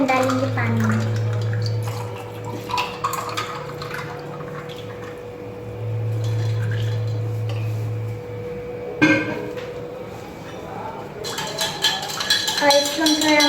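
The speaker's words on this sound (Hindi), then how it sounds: "अब इसके अंदर हम डालेंगे पानी।" Water poured into a glass holding betel leaf syrup and ice, a steady close splash and trickle with a few glassy clinks, partly under a voice speaking.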